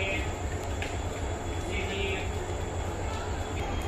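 A Kaveri Express passenger train hauled by a WAP 7 electric locomotive, running between Mysore and Chennai, gives a loud steady rumble of wheels on rails with some speech in the background.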